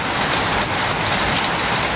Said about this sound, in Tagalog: Ganun pa rin, hindi nagbabago yung ulan.